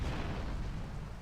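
A short, dense explosion blast in the video game GTA Vice City, a loud booming burst with rumbling low end that fades quickly.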